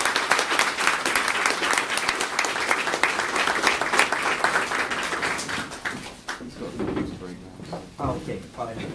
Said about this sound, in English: So a big applause to the 4 panelists.